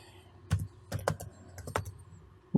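Close, crisp keystrokes on a computer keyboard as code is typed, coming in small irregular clusters of clicks with brief pauses between them and no voices.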